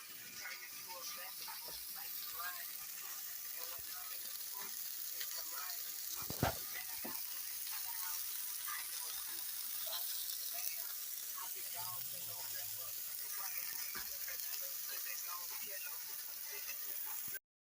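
Hamburgers fry in a pan on a home stove, giving a steady, fairly quiet sizzle throughout with one sharp knock partway through.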